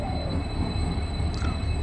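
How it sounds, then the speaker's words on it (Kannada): Kuvempu Express, a Talaguppa to Mysuru service hauled by a WDP4D diesel locomotive, arrives at Shivamogga Town station with a close, continuous low rumble of wheels on rail and a faint high squeal. "ನಮ್ಮ ಟ್ರೈನ್ ಬಂತು"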